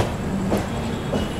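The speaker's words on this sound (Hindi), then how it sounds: "हमारी ट्रेन यहाँ पर रुकेगी और अच्छा खासा टाइम रुकेगी" A passenger train rolls along the rails on its approach to Patna Junction, a steady broadband rumble with faint wheel clatter and a brief high squeal, heard from inside the carriage with no talking.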